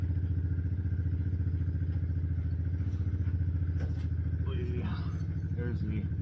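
A four-wheeler ATV engine idles with a steady throbbing rumble, close and continuous, while a person talks over it.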